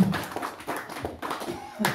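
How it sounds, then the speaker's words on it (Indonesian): Applause at the close of a village anti-narcotics community event, a short burst of scattered hand clapping from a small group, moderately quiet and uneven in rhythm. "kita berikan tepuk tangan untuk kita semua"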